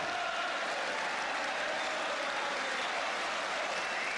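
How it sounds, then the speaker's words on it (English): Steady, dense applause from a large football stadium crowd at a 1972/73 Chelsea versus Manchester United match, continuous and fairly loud throughout. "More applause for Charlton."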